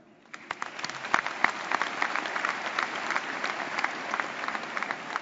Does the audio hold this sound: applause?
yes